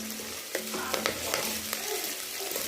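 A handful of curry leaves sizzles in hot oil for a tomato curry, a constant crackling hiss with scattered sharp pops and spatters, heard alone at a moderate level.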